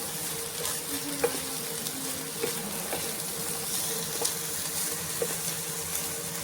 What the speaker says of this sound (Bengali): এবারে সব কিছু ভালো করে একটু ভাজা ভাজা করে নেব।